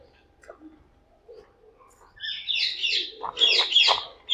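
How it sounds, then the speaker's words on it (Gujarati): Small birds at a cow shelter chirp in bright, busy clusters of high notes, starting faint and sparse and then growing into a lively chorus close by. "પક્ષી પણ તમને બતાવું."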